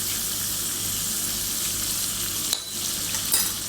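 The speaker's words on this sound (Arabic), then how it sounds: "وابدا احمس عدل" Spices and garlic (cumin, paprika, cardamom, cinnamon) sizzling and frying in a pan for a kebab biryani, a steady close crackling hiss with a brief stirring scrape partway through.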